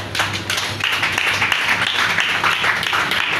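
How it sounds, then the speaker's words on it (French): Church congregation clapping and calling out in acclamation of Jesus during a worship service, a steady wash of hand claps and voices filling the space for a few seconds. "Ce sont des acclamations froides"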